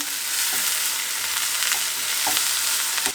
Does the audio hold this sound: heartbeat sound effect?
no